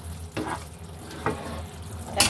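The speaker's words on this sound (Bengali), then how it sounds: "ভালোভাবে কষিয়ে নিচ্ছি" Spice paste sautéing in a pan for a mild, chili-free meat curry: a steady close sizzle broken by a few sharp scraping stir strokes, with no talk.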